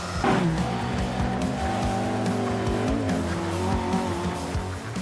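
A Mark 1 Lotus Cortina's twin-cam 1.6-litre engine revs hard and high at Cadwell Park circuit, a loud buzzing whine rising and falling as it shifts, with tyres squealing under it.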